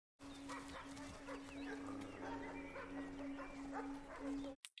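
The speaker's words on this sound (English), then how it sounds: "God, I hear dogs." Several dogs barking in an outdoor scene, overlapping barks at a middle distance over a steady background hum, lasting a few seconds before cutting off abruptly.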